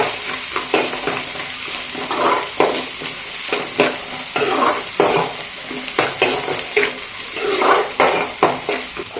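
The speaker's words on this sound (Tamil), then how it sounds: "வெட்டி வச்ச சின்ன சின்ன வெங்காயம், பச்சை மிளகாய் ரெண்டும் சேர்த்து நல்லா பொன்னிறமாக வதக்கணும்" Small onions and green chillies sizzle in a hot pan, with steady frying crackle and repeated stirring scrapes of a spoon against the metal, heard close and with no talking.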